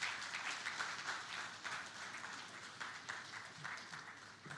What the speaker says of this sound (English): a round of applause for His Excellency